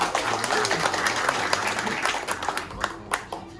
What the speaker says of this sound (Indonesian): Yang saya cintai, tepuk tangan dong.